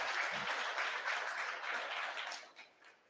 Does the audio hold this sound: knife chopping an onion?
no